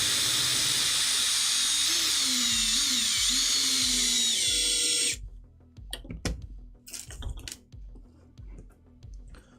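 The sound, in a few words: screws driven into 3D printed tank part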